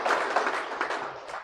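Audience at a law conference on criminal law reform gives a short burst of applause, dense clapping from a crowd, fairly loud and steady, fading slightly.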